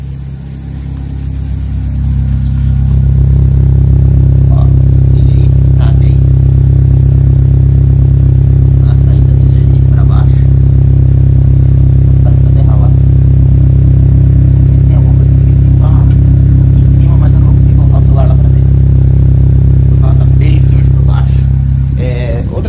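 Chevrolet Celta fitted with a Turbal sport exhaust, engine idling loud and close with a steady deep rumble and light clatter, running continuously for about twenty seconds.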